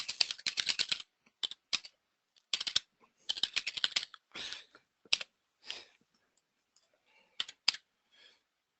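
Computer keyboard typing in bursts of rapid clicks with short pauses, close and clear with no voices, while a description is entered into an order form.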